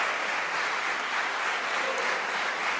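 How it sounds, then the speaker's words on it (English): A concert audience applauds steadily after a polyphonic ecclesiastical chant performance by a university choir, a dense, even wash of many hands clapping that cuts off abruptly at the end. "now the audience is clapping"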